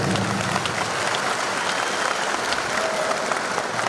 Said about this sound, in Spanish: Un aplauso para todas las comisiones.